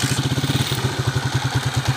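A repaired motorcycle engine idles close by with a steady, even low thumping rhythm, running alone without talk.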